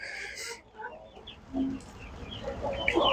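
Chickens clucking on a ranch during chores, a few scattered short clucks and soft calls at moderate distance against a quiet background.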